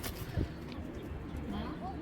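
Giribaz pigeons at a Bangladeshi farm give a low coo, heard early and faint under a steady background murmur while someone talks close by.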